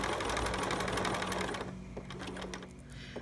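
A home sewing machine zigzag-stitches prickly Velcro onto a preemie shirt, a loud, close, rapid mechanical whir that runs steadily, then slows into separate clicks and taps as it stops.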